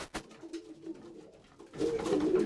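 Pigeons cooing inside a loft in Amsterdam, soft low throaty coos close by, with a few light knocks and rustles and a louder burst of cooing toward the end.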